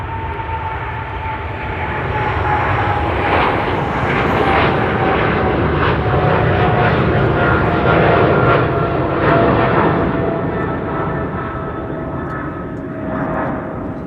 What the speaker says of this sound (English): Nippon Cargo in the meantime taking off to Doha.